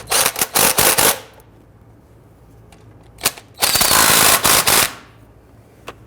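A hand ratchet snugs down starter bolts on a 2007-2014 Cadillac Escalade 6.2L V8, heard as two loud bursts of rapid clicking, each lasting about a second, separated by a quiet pause and a single knock.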